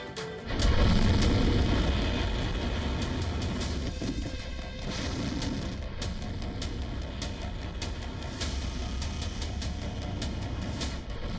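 A BrahMos missile launch gives a sudden loud boom about a second in, followed by a long roaring rumble that slowly fades, with sharp crackles scattered through it and no voices.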